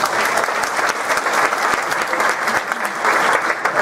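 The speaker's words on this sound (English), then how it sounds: "Let's have a big round of applause for Mr." Sustained applause from a forum audience in Denton County, Texas, greeting Texas Land Commissioner Jerry Patterson at a lieutenant governor candidates' event, steady dense clapping throughout at even loudness.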